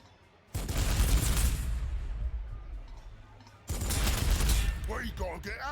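Gunfire in the Warhammer 40,000: Sanctus Reach strategy game, with two loud sustained bursts of shooting and explosions separated by a brief quieter gap.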